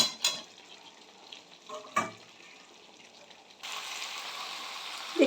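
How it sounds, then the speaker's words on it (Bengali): Potatoes frying and being stirred in spiced masala for a Bengali chicken curry, a soft steady sizzle with a few scraping stir knocks, growing louder and brighter toward the end. "আমি এখন এর মধ্যে আলুটাকে দিয়ে ভালো করে কষবো।"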